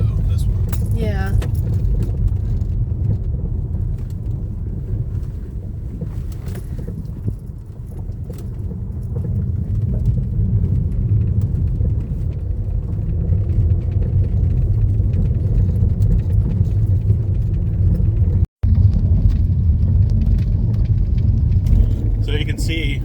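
A car drives along a remote road near Jesse Owens State Park, giving a loud, steady interior rumble of engine and tires throughout, with faint rattles and people talking over it.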